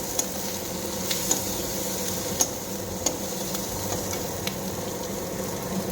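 Onions frying in a pan for a puti fish curry, a steady soft sizzle close by with occasional sharp clicks of a utensil, quiet and continuous.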